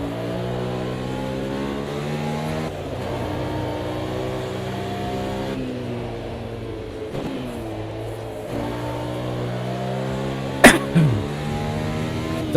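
Race car engine in the sim racing game Automobilista 2, a loud continuous drone rising and falling through revs and gear changes, with a brief sharp knock near the end.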